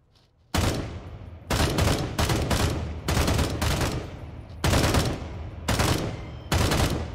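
Gunfire from a weapon in the VR shooter Contagion VR: Outbreak rings out in repeated loud bursts of rapid shots separated by brief gaps, close and sharp, with no talking.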